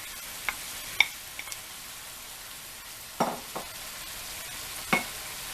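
Shredded pork drops into a pot of cooking cabbage for Kalua pork, giving a few scattered utensil clinks and stirring scrapes over a soft, steady low sizzle.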